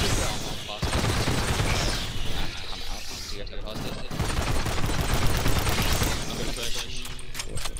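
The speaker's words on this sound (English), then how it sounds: "Can you fire your pulse rifle?" Rapid bursts of pulse-rifle fire in the shooter game AFTE, dense clattering automatic shots running almost continuously, loud and close, with brief gaps and mechanical rattles, mixed under game noise and voices.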